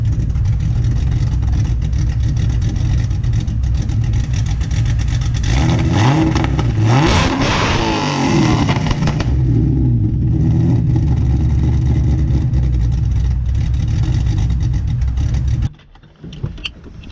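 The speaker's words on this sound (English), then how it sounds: "Get a nice little exhaust clip." A car engine idles loudly up close, its exhaust revving hard in the middle before settling back to a steady rumble, then cutting off abruptly near the end.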